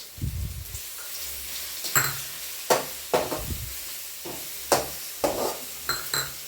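Ginger garlic paste stirred into fish curry frying in a pan: a low sizzle beneath a series of close spatula scrapes and knocks, roughly eight strokes in an uneven rhythm, with no talking.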